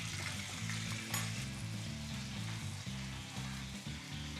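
NY strip steak sizzles steadily over a fire, a dense, continuous frying hiss up close, with low tonal hum underneath and no talking.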